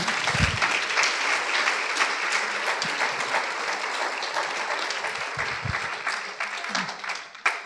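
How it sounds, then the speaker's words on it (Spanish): A church congregation in Mazatenango gives a sustained round of applause during a worship service, steady and dense throughout, with a few low thumps beneath and a brief swell near the end. "Dale una ofrenda de palmas al Señor."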